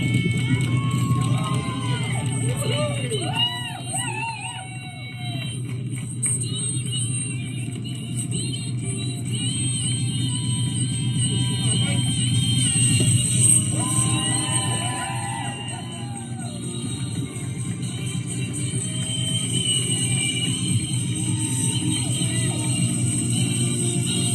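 Harbour crowd at Les Sables d'Olonne greets sailor Abhilash Tomy, finishing the Golden Globe Race, with steady sustained applause and cheering, while a voice carries on over the dense, continuous wall of crowd noise.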